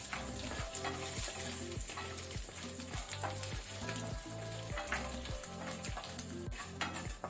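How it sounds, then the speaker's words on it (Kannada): Dry red chillies, curry leaves, urad and chana dal fry on a low flame for lemon rice, a soft continuous sizzle cut by regular rhythmic scrapes of a spoon stirring the pan. "ಸೊ ಇಷ್ಟನ್ನು ನಾವೀಗ ಲೋ ಫ್ಲೇಮಲ್ಲಿ ಫ್ರೈ ಮಾಡ್ಕೊಳ್ಳೋಣ."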